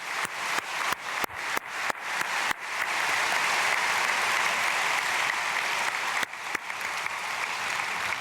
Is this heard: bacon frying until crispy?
no